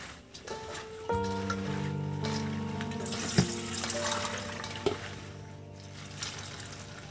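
Tap water runs while taro leaves (kochu shak) are washed in a kitchen, a moderate splashing flow with some clinks and tonal hums behind it.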